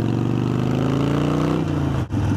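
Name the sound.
motorbike engine revving as it is put into gear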